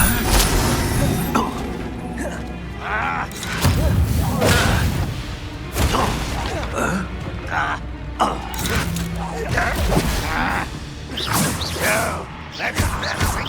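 Fire spells Confringo and Incendio are cast in Hogwarts Legacy, giving bursts of whooshing flame, crashes and thuds in quick succession amid combat, with voices shouting over the action.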